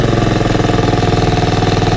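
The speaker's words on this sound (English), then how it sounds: "Pull it back, drops down to an idle" A Honda lawn mower engine idles outdoors after carburetor cleaning, producing a steady, close, loud putter with an even rhythmic pulse throughout.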